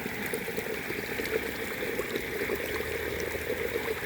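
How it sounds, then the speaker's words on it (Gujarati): Fresh cow dung slurry carried along by irrigation water in a farm field channel: a steady, continuous close-up gurgle and trickle of flowing water, with no pauses or talk. "જો આટલો ડોળ જાય છે ડોળ પાણીની અંદર"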